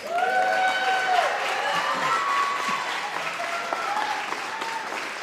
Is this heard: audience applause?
yes